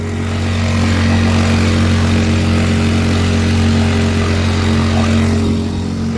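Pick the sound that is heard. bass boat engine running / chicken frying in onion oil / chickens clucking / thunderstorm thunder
bass boat engine running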